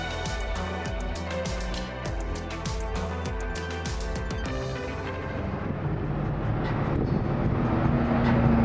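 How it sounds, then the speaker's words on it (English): Road traffic in Marion Station, Maryland rolls past with a steady, loud rumble that swells and deepens toward the end as a vehicle draws near. "What's all this traffic all of a sudden?"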